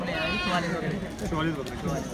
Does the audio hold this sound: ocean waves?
no